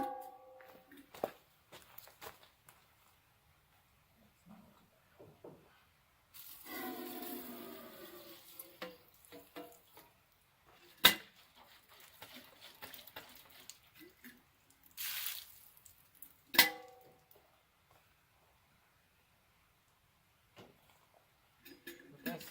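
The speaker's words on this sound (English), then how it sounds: "Just need a quick rinse." A water tap at a campground in Ouachita National Forest gushes in short bursts for a quick rinse, amid drips, soft clatter and long quiet pauses.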